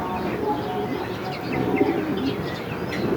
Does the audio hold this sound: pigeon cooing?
yes